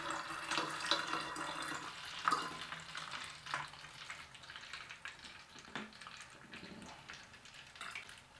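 Water running from a tap into a bottle being filled, a soft continuous splashing trickle with small bumps of handling, nearby and quiet.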